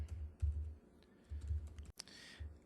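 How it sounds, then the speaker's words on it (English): Quiet keyboard typing while entering a search in the Second Life game, with a short run of soft, close key taps in small clusters and a brief louder click near the end. "I just type in free stuff."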